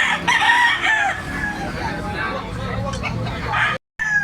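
A bullstag gamefowl, a yellow-legged young rooster, crows loudly and close with a drawn-out call, while someone talks over and around it.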